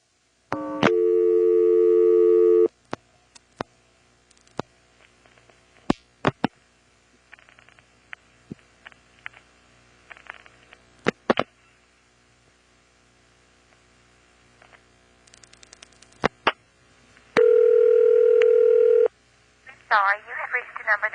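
Trunk signaling tones on a 1977 NX1-E telephone exchange in Vanceboro, North Carolina: a steady multi-tone burst, scattered clicks during flashing and dialing, then another tone burst and a short rising tone.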